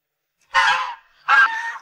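Geese raised on a remote mountain farm give two loud, close honks, each about a third of a second long and separated by a short pause, with no talking.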